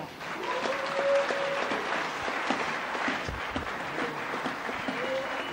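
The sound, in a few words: audience applauding in a church hall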